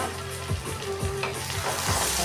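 Spiced jackfruit curry with fried potatoes sizzles in a pan, with steady frying crackle and several scraping stirs of a spoon against the pan, heard close up and with no talking.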